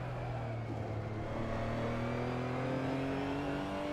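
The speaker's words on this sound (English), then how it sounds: "as you can hear from the glorious Porsche engine" A Porsche GT4 race car engine roars steadily in a sim race at Imola, its pitch climbing smoothly through a gear as the car accelerates, loud and close with no voices.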